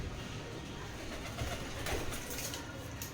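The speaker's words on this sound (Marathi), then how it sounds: "कबूतर आले वाटते घरामध्ये, कबूतर आले." A pigeon inside a house gives soft, faint cooing against a quiet indoor background.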